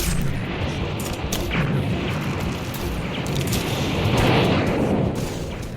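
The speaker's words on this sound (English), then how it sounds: "a German fighter appears and opens up with cannon fire from just 100 yards" WWII German fighter opening up with cannon fire in a dogfight, dense rapid bursts of booming shots under a constant rumbling roar, loud and continuous throughout.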